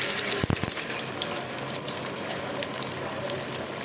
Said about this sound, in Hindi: अब मैंने 4 अंडे जो है ना बीट किए हुए हैं, ये देखिए। इनको पहले फ्राई कर लेते हैं।